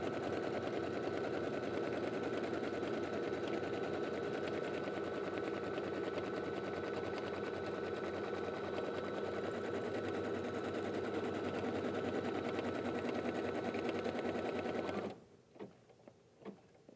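An embroidery machine tacks down the main fabric of an in-the-hoop gift bag, a continuous fast mechanical whir and chatter lasting about fifteen seconds before stopping, followed by a few soft clicks.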